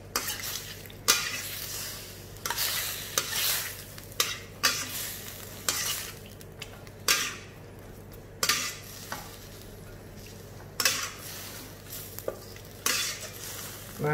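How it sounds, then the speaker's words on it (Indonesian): Broth splashes into beef stir-fried with lime leaves while the pan sizzles. Stirring and scraping strokes of a utensil sound at irregular intervals over a steady frying hiss, and no one speaks. "Setelah itu kita masukkan air kaldu."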